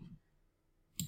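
Single faint, crisp computer mouse click near the end, following a soft earlier tap in otherwise quiet surroundings.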